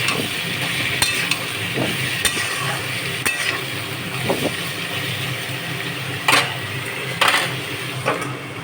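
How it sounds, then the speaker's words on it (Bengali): Turmeric and Kashmiri chili powder sautéing in a pan: a steady close sizzle with a spoon scraping and clinking against the metal now and then, no talking. "এগুলো দিয়ে এবার ভালো করে সাঁতলাবো"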